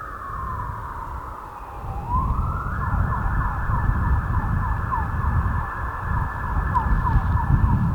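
An ambulance siren wails from a distance outdoors, its tone rising and then cycling in a steady pattern over a constant rumble of wind or traffic.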